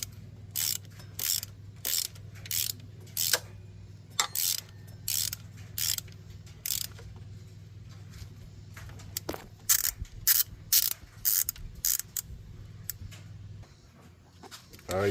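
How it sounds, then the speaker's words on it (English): Hand ratchet wrench tightening water pump bolts on a 3.7L V6 engine (2003-2011 Jeep Liberty, Dodge Durango, Ram 1500): repeated bursts of close metallic clicking in a steady rhythm, separated by short pauses, over a low background hum. "I'm using a hand wrench, ratchet wrench to lock it up"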